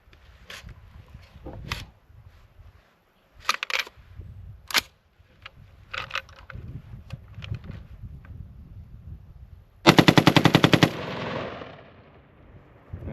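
A GAU-5 style rifle fitted with an Atrius Super Selektor cracks off scattered single shots outdoors, then rips a long rapid-fire string of fast, sharp reports before trailing off into quieter noise.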